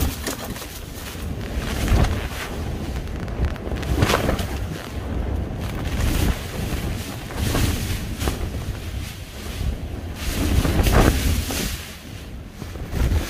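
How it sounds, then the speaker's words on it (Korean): Strong gusting wind buffets a backpacking tent on a rainy mountain, roaring and flapping in surging waves close to the microphone, with no talking. "아우, 이거 바람이."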